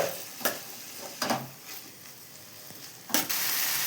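Chopped tomatoes go into a pan of fried onion for a bitter gourd gojju, giving a soft sizzle with a few sharp stirring scrapes of a spoon against the pan, no one talking.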